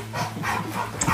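A small indoor pet dog at an animal shelter pants and gives faint whimpering breaths in short repeated bursts, close by, with room noise in the background.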